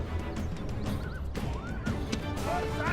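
Horses neigh and whinny amid the din of a battle in a strategy video game with Sassanid forces and horse archers, their rising calls repeated over dense, continuous combat noise.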